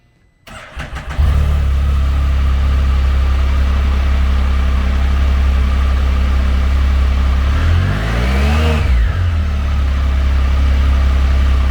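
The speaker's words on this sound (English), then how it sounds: "Powered by a 1300cc 3-cylinder engine, the SPYDER puts 115 horsepower and 96 foot-pounds of torque through a 6-speed transmission." A 2021 Can-Am Spyder F3 Limited trike with a 1300cc three-cylinder engine starts up close and loud, settles into a steady deep idle, then gives a single rev that rises and falls before it returns to idle.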